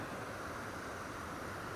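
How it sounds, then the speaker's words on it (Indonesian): A waterfall along a rural road on the Cilacap–Kuningan border roars as a dense, steady rush of water, close and constant over the short stretch, with no voices. "Air terjun tuh guys"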